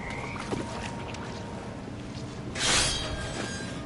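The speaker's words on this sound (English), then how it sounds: "And toads." Toads croak in the video game What Remains of Edith Finch, low rough croaks over a steady ambient bed, with a brief louder watery burst near the end.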